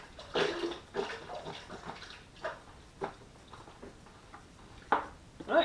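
The last litre of liquid goes into a homemade red wine kit as a series of soft splashes and trickles, faint and uneven, with brief gurgles and a few louder sloshes near the end.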